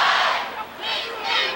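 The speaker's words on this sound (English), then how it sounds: "See the Berwick cheerleaders urging this near capacity crowd on." A near-capacity crowd at a 1994 high school football playoff game between Berwick and Manheim Central roars and chants in loud swelling waves, dipping briefly before rising again.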